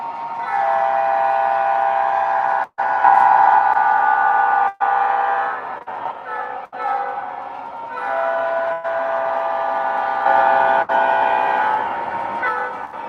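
Model train running laps on a layout, a steady tonal horn or whistle sound held over a continuous running hum, loud and close, broken by a few brief clicks and dropouts.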